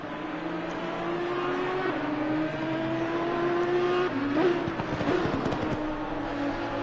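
A GT4 race car in a racing video game threads through the chicane at Barcelona, its engine droning steadily with gear changes and revs rising and falling near the end, close and continuous.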